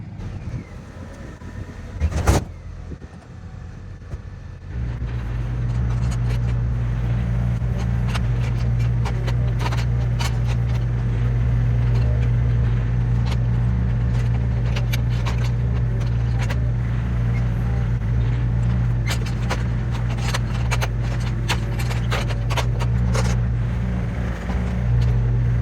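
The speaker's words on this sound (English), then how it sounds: "And now I'm gonna back the truck over here and dump that out." A Ford F350 pickup truck's engine drones steadily as it backs up at a log-hauling site, a loud continuous low rumble beginning after a brief knock, with scattered clicks and clatter over it.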